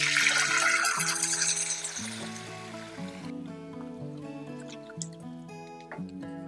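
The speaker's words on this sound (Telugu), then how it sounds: "అప్పుడు మనము దీనిలో వాటర్ పోసేసుకోవాలి" Water rushes and hisses into a hot pan of tempered moong dal for a few seconds, then fades away, leaving soft background music playing alone.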